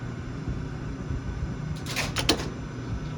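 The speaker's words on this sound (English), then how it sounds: "Doors closing." A 1960s Westinghouse elevator's doors sliding shut, heard from inside the machine room over a constant mechanical hum, with a brief rattling clatter and clunk as the doors close.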